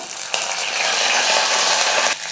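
Garlic and curry leaves sizzle and crackle in hot oil with mustard seeds and cumin, a loud, steady frying hiss that starts abruptly and holds for about two seconds before dying down, with no voices.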